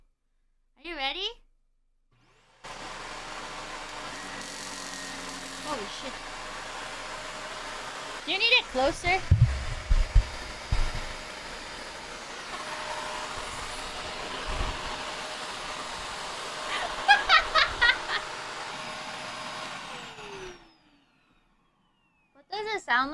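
A vacuum cleaner roars for most of the stretch, a loud steady broadband whoosh starting and stopping abruptly, with a person talking and exclaiming over it.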